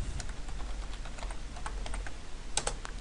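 Computer keyboard typing while logging into a school information system, a scatter of light key clicks across a few seconds, then a firmer pair of strokes near the end like the enter key, close and fairly quiet with no speech.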